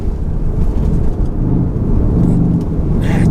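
A Cupra Formentor 310 drops from fourth into third gear mid-corner, its engine a steady, loud low rumble with a rising blip toward the end, heard from inside the car.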